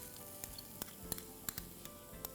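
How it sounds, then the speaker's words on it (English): Chopped onions and garlic frying in hot oil in a pan, a steady close sizzle with occasional soft ticks and pops from stirring. "Next we'll add in our chopped onions."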